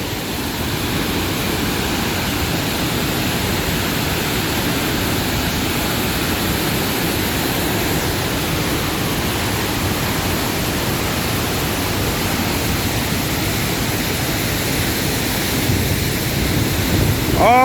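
A waterfall in the Mixteca region roars as a dense, steady wash of falling water, loud and unbroken throughout with no voices over it.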